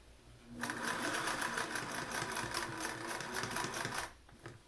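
A home sewing machine stitches fabric face masks in one fast, even run of needle clatter lasting a few seconds, close and clear, then stops abruptly.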